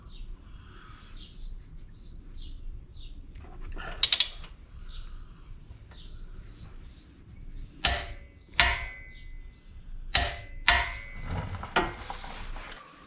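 A torque wrench tightens a bolt on a Subaru Outback front strut during a wheel bearing job, with faint ratcheting ticks followed by several sharp metallic clicks and clanks close by.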